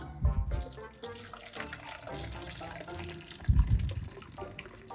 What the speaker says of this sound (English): let me pour the hot water